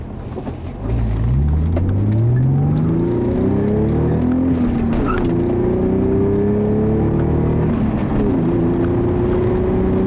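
A 1994 Acura Legend luxury sedan drives down the road, its engine droning steadily and rising through the gears with a loud, continuous in-car hum and road noise, no voices present.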